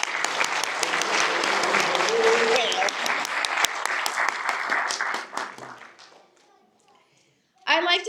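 Audience applause for graduating YSO core officers, a crowd clapping loudly for about five seconds before fading into near silence, then a brief burst of voices and noise at the end.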